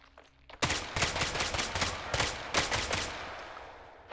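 Bursts of automatic gunfire in the Roblox game Hellmet: a rapid volley of loud, dense shots starting abruptly, with brief pauses between strings of fire and a fading tail at the end.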